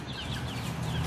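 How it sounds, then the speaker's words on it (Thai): Hens clucking softly in a steady, busy murmur, several birds close by with scattered higher chirps over a continuous low farmyard hum. "ไก่บ้านคนอื่นเขาจ้ะ"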